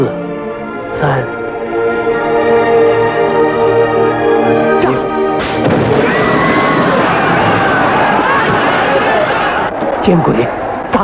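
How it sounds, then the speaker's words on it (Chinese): A staged explosion under the stalls of an opera house in a 1966 French comedy film bursts out midway with a loud roar and rumbling debris, following a stretch of music or ambience with sharp accents. "爆炸不算成功，只不过让司令落了一身土"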